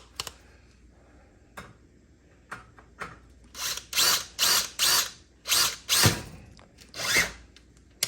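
A power drill drives screws into a garage ceiling, with a few sharp clicks first, then a string of short whirring bursts of about half a second each, close and clear.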